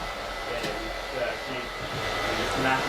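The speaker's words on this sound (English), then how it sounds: "I'm just literally just arching the clipper over so I don't end up taking lots and lots of lines out" Electric hair clipper held open and arched over a man's hair during a blended quiff cut, giving a steady close motor hum that runs without a break and has no talk over it.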